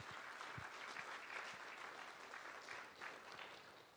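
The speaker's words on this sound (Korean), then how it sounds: "큰 박수로 축하해 주시면 고맙겠습니다" Steady applause from a crowd, a dense patter of many hands clapping continuously throughout, fairly close and even in loudness.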